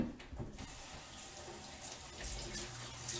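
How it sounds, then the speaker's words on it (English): Kitchen sink tap running while something is rinsed out under it, a soft continuous stream with faint splashing and gurgling, quiet and close, no voices. "I'm gonna take it over to the sink and I'm gonna rinse it out."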